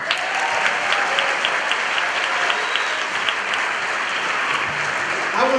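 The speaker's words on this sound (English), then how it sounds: "round of applause for Mr. Ashani." A school concert audience of parents and students gives a loud, sustained round of applause from many hands, steady throughout with a faint crowd murmur underneath.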